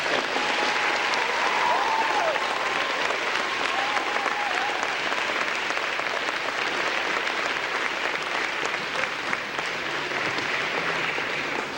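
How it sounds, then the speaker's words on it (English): An audience applauds veterans at a Veterans Day event, a sustained dense wash of clapping that holds steady for many seconds before thinning slightly at the end. "Please give our veterans one more round of applause."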